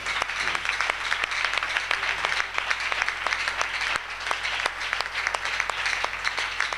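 Church congregation clapping together at a Thursday worship service, dense, even handclaps in a steady rhythm over a low hum, continuing throughout at moderate loudness.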